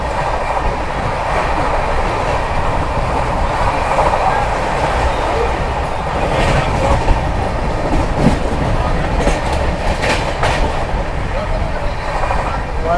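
Passenger train on the western line rolling past with steady broadband rumble and faint wheel clatter, loud and continuous, with voices murmuring underneath.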